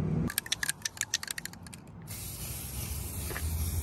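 Lubricant is sprayed onto a roller and rail: a quick series of short rattling clicks, then a steady close hiss from the aerosol can that lasts nearly two seconds, with no talking.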